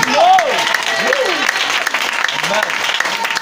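Church congregation at a French-speaking worship service applauding and cheering for God, a steady broadband clapping wash filling the clip with a preacher's voice rising and falling over it.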